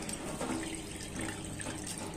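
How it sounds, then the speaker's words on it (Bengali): Dal lentils get rinsed under running water in a kitchen sink for a home curry, giving a steady, moderately faint splashing and trickling wash that runs alone without voices. "এই জন্য ডালটা আগে ধুয়ে নিচ্ছি, কয়েকটা ধোয়া দিয়েছি, আরো দুই একটা ধোয়া দেব"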